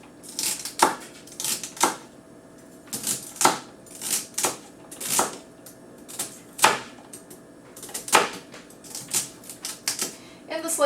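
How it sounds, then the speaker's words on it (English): A knife slicing food on a cutting board, giving crisp, evenly spaced clicks and taps about once a second, close by, with a soft hum underneath. "We always want to keep our fingers away from the knife as we slice"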